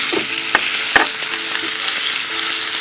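Quinoa kheer mixture with dates cooking and being stirred in a hot pan, a steady loud sizzle with a few sharp scrapes of the spoon, no voices.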